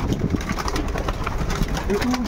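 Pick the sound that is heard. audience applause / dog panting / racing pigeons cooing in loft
racing pigeons cooing in loft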